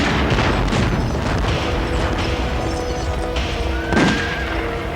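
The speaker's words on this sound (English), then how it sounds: "the release of arrows and cannon fire" Heavy booms and crashing impacts of cannon fire along the Great Wall of China, loud and rolling, with a sharper blast near the end, no voices.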